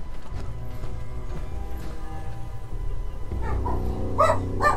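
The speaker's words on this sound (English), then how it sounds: "Barking at someone outside, no doubt." A pet dog barking at someone outside, a few muffled yips and barks toward the end, partly masked by Fallout 4 game music and ambience.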